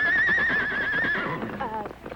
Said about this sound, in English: We have a horse over here that's never been ridden.